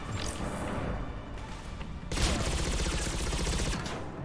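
Bursts of gunfire from incendiary ammo in Mass Effect Legendary Edition, a steady rattle that swells louder and denser partway through, with crashing impacts.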